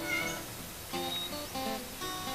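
A cat meows several times in a row, clear and fairly close, with drawn-out, wavering cries separated by short pauses and no talk.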